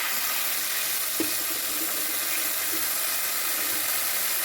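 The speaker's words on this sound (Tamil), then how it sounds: "இப்போ குழம்புக்கு தேவையான உப்பையும் சேர்த்து புளிக்கரசலை ஊற்றிக்குவோம்" Fish curry sizzles in a pan as tamarind extract and salt go in, a steady close hiss of frying with faint bubbling and a brief clink, no talking.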